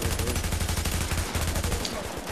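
AUG rifle fire in the video game The Division: rapid automatic bursts, loud and close, hammering out in a fast, even rhythm with a brief pause midway before the shooting resumes.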